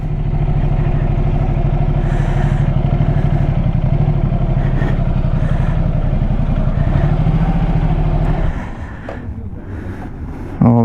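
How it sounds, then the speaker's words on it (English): A Ducati motorcycle engine runs loud and close, holding a steady idle with a rough, pulsing rumble for about eight seconds before the level drops and a few clanks follow. "Oh, there's another Ducati."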